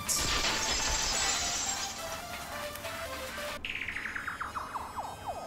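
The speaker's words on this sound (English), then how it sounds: "It sounded like something heavy fell down and hit the floor really hard." In Danganronpa V3, a heavy object crashes to the floor as a loud, bright, sustained impact, then cuts off into a ringing tail of fading metallic echoes.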